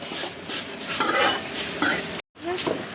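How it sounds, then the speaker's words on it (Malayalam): Onions sauté in a pan for jackfruit biryani, a dense close sizzle broken by stirring scrapes and utensil clinks, with a brief dropout of silence near the end. "ഉള്ളിക്കുട്ടന്മാര് നല്ല വഴന്ന് വരണം"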